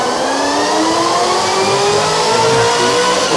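A fully built Ford GT500 with a 5.8 L engine revs hard, a loud sustained roar with a steadily rising pitch as it climbs through the revs, close and continuous.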